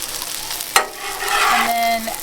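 Sausage and Brussels sprouts stirred together in a pan on a Blackstone griddle while camping, giving a sharp utensil clack followed by steady scraping and sizzling, close and moderately loud, with no talk.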